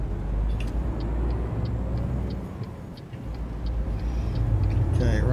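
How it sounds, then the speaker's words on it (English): A low, rough Scania 360 truck engine in Euro Truck Simulator 2 rumbles steadily, sputtering unevenly as if about to stall, with faint ticking and rain on the roof, and a louder revving surge near the end. "And the sound of my truck nearly stalling."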